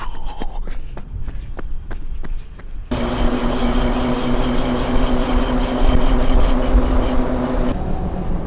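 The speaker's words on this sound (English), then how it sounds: "I can hear that hub grinding from here." A car with a grinding wheel hub driven in sport mode: after a few sharp clicks and thuds, a loud steady roar with a sustained droning tone sets in and holds for several seconds, then cuts off abruptly.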